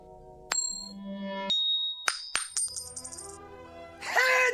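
A quarter tossed with a ringing ding, then bouncing and clattering with bright metallic rings before spinning down on a hard surface; a single toss, fairly close and clear, with no talk.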